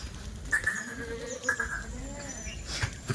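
Long-eared, double-boned goats arriving by vehicle bleat several times in short, nasal calls at close range, with a few overlapping cries and a low murmur of background activity.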